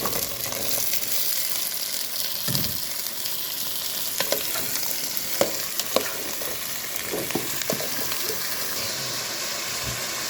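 Vegetables sautéing with onions in a pan for sambar, a constant sizzle broken by scattered scrapes and clinks of stirring, close and steady.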